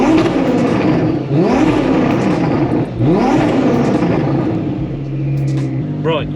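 A 1500 HP Lamborghini Huracan revs hard in two loud rising pulls, each engine sweep climbing then dropping back. A steadier droning idle follows, close and powerful.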